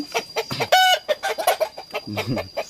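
A Rhode Island Red chicken clucking repeatedly up close, with a rising squawk near the start and a rapid string of clucks, loud and alone.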